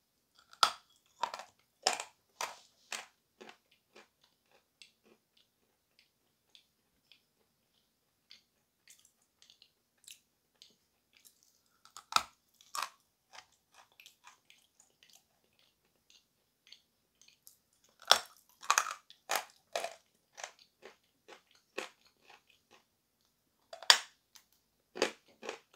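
Close, crisp crunching as edible chalk is bitten and chewed. Clusters of dry cracks and snaps are broken up by long quiet pauses, and no one speaks.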